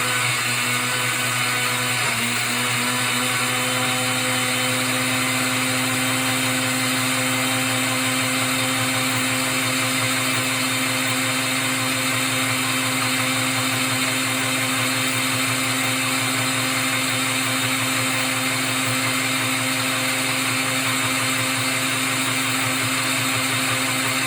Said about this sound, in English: turn the blender on this one.